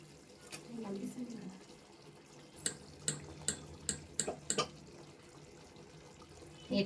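Water draining from cooked rice through a perforated strainer while making chicken biryani, a soft pouring wash followed by a run of sharp clinking metal taps, with a voice speaking early on.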